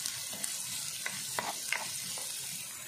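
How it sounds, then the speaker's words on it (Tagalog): Food sautéing in a frying pan gives a steady sizzling hiss, broken by a few sharp clicks and scrapes as it is stirred. No one speaks. "Gisa-gisa lang natin."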